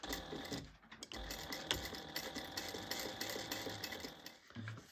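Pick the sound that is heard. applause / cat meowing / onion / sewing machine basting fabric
sewing machine basting fabric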